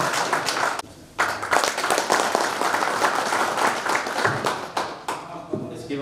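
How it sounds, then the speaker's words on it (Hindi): An audience at a transporters' meeting for a Madhya Pradesh youth scheme claps to welcome people onto the stage; brisk, sustained clapping from many hands, briefly dipping and then resuming, fading slightly near the end. "सभी ताली बजाते रहें, उत्साह करते रहें।"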